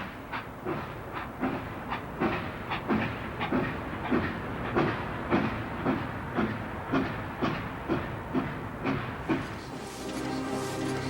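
A train rolls along the Tokyo–Yokohama railway of Meiji-era Japan with a steady, rhythmic clickety-clack of wheels over rail joints, a loud, close mechanical rumble with hiss and a brief steam-like whistle near the end.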